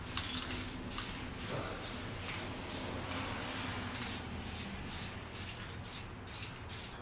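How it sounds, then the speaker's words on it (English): Spray paint hisses steadily as a top coat goes onto a rusted Toyota frame, in repeated short bursts close to the microphone, with no voices. "I'm going to be spraying the top coat on now"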